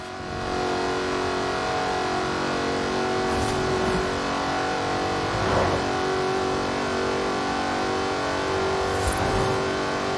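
A Jaguar F-Type Project 7 in Forza Horizon 4 drives under a loud, steady engine note that swells through gear changes, with no voices.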